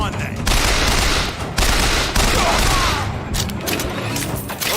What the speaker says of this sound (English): Aim better. Don't just keep shooting. Aim, then shoot.